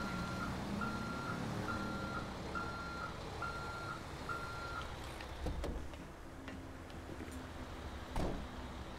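Heavy Kenworth T440 tow truck reversing in GTA 5 on tight Liberty City streets, its reversing alarm beeping steadily six times at an even pace over a low engine rumble, followed by a few clunks.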